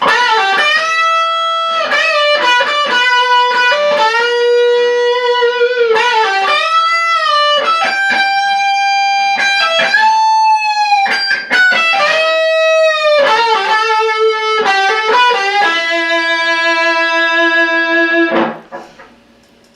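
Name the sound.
distorted electric guitar solo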